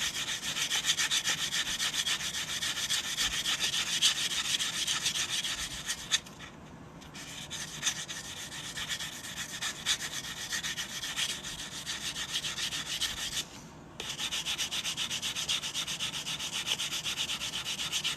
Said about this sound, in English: I'm just sanding this down, making it nice and smooth